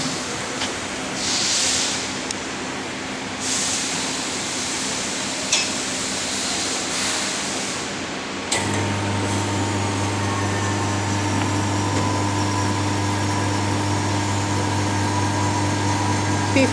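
An AA4C AC service machine running a vacuum on air-conditioning piping, kicking in partway through with a steady, loud motor drone and hum that holds constant without voices.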